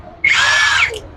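A 20-watt cordless drill spins up suddenly inside a hardware shop in Madanapalle, giving a loud, steady, high whine for under a second before it winds down.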